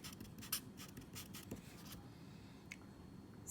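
A pen writes on paper in short scratchy strokes, quiet and close, with a few sharper taps early on and a steady low background hum throughout.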